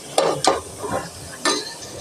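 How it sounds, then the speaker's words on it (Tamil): Masala and potatoes stirred in a pan for chicken kulambu: a few distinct scraping, clattering strokes of a spoon against the pan, close and fairly loud, over a faint background sizzle. "நல்லா மிக்ஸ் பண்ணி விட்டுக்கோங்க."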